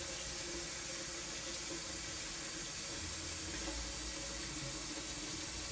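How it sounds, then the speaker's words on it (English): Tap water runs steadily into a cooking pot at the start of making a detox tea, a continuous hissing splash that holds at an even level throughout with no talking. "Right now I'm just filling up the pot with water."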